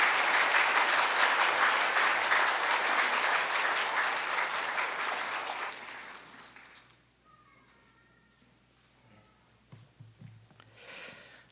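A church congregation gives loud applause welcoming the pastor, dense clapping that gradually fades out by around seven seconds, followed by near quiet with faint scattered sounds.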